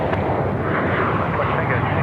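A Pilatus PC-24 jet taking off and climbing from Sydney Airport, a loud steady broadband jet roar close by, with people talking over it.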